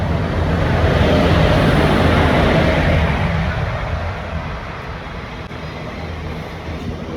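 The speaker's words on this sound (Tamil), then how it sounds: "ட்ரெயின் வந்தாச்சு" A train arriving at a station: a loud, continuous low rumble and roar that swells at first, then eases slightly as it settles into a steady drone.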